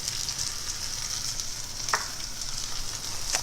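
Frozen, precooked beef patties browning in a pan give off a steady, close, bright sizzle, with a brief louder crackle about midway and no voices.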